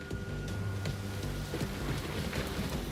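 Torrential rain pours steadily over the Theban hills west of the Nile in Egypt, with low rumbles of thunder rolling beneath the dense, continuous hiss of the downpour.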